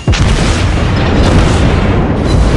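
A loud in-game explosion as an enemy ship is destroyed by a precise shot, a heavy boom with a rumbling, sustained tail that fills the whole moment.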